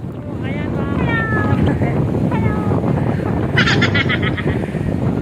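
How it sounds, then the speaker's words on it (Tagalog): Strong wind buffets the microphone with a constant roar on a dam view deck at Pantabangan Dam while people talk over it. "napakalakas ng hangin dito"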